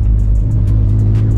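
A cheap Subaru Liberty road car drives along an off-road track, its engine a steady, loud, close rumble with a constant low drone throughout.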